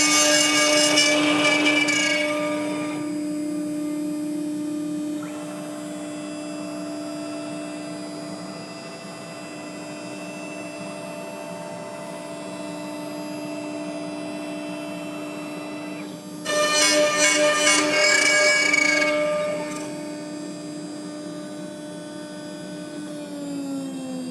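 A CNC router following a swirling toolpath carves a wooden sign too long for its bed, giving a steady spindle whine over mains hum, with louder, rougher cutting bursts at the start and again near the end.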